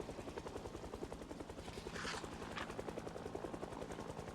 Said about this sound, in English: How will I know when the helicopter goes away?